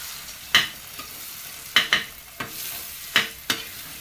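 Egg bhurji stirred on a flat iron tava, with sharp metal spatula scrapes and clacks landing in irregular bursts over a soft, steady sizzle of frying eggs, close up with no talking.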